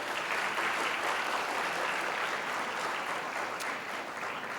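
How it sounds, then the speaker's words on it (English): Audience applause for a paper presenter at a conference session, dense and even clapping from a sizable crowd sustained throughout at a fairly close, consistent level. "Can we have a huge round of applause for him?"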